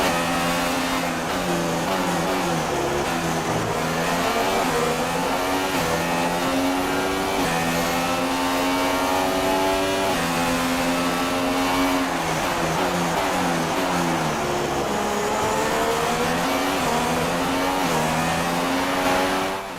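A McLaren V6 hybrid Formula 1 car races in the F1 2016 video game, its engine loud and unbroken for about twenty seconds, a high buzzing whine that climbs and drops through repeated gear changes and accelerations, with no talking.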